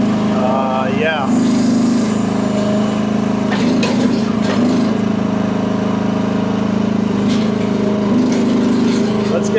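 A cheap Amazon mini excavator's small engine drones steadily up close on concrete, a constant buzzing hum with brief clanks and rattles of the machine over it, while a person talks.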